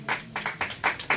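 Audience applause at a Mother's Day celebration, a short burst of several crisp, distinct claps in quick succession, close and fairly loud.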